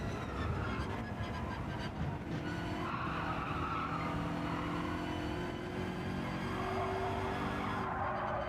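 A BMW race car in Gran Turismo 7 skids with prolonged tire squeal over a continuous engine drone during lobby racing, loud and sustained with no talk.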